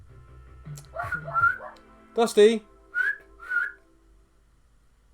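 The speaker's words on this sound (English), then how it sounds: "Sorry, everyone, I just whistled in your ears." A person whistles to call a pet dog indoors, a series of short two-tone whistles spaced out over a few seconds, with a single spoken call to the dog early on.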